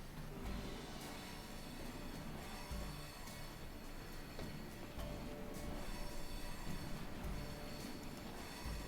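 A train rolls along the track in the Trainz railway simulator, a steady loud rumble with rhythmic wheel clacks over rail joints roughly every two seconds and a faint metallic whine above.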